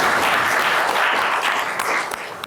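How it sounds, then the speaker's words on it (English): Audience at an alumni fireside chat applauding the participants, a full, close burst of many people clapping that holds steady, then begins to thin out near the end. "Please give them a big round of applause"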